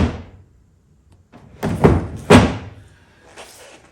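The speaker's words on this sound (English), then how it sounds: "the drawer runners have gone, they've worn away, and as the drawer pops out" Worn wooden runners on an antique French maple and rosewood chest of drawers from around 1830–40 give two loud thuds about half a second apart as the drawer pops out, with softer wooden scraping and rubbing before and after them.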